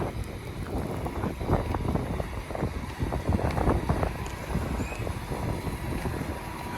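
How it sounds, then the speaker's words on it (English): Gusty Texas wind buffeting outdoors, loud rumbling bursts that rise and fall irregularly, steady and continuous with no talking. "sorry if it's windy here, but it usually always is."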